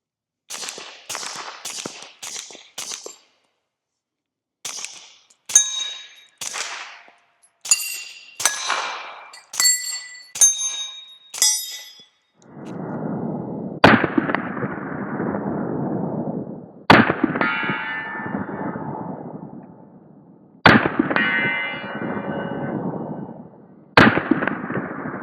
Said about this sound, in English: Let's load up some more mags, shoot it some more with this suppressor